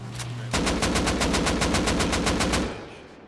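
AK rifle fired in full-auto bursts in a video game, a fast rhythmic string of about a dozen loud, close shots after a brief lead-in, trailing off at the end.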